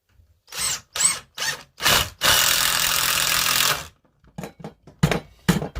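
A power drill drives screws into wood in several short close bursts, then one long sustained whir, followed by a few more quick bursts. No one speaks.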